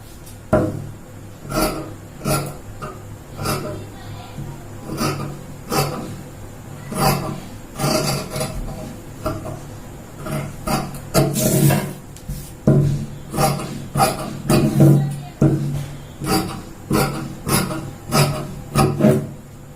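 Scissors snip through blouse fabric while a sleeve is cut out, giving repeated short crisp cuts in an irregular rhythm with occasional louder scraping rustles, close and clear, with no talking.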